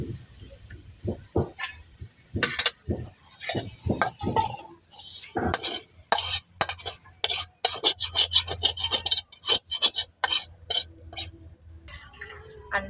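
A metal cooking pot is scraped, knocked and shifted about on a home kitchen stove as cooked leafy greens are taken off the heat, with irregular clanks, rasps and taps that come close and loud, then pause, then start again.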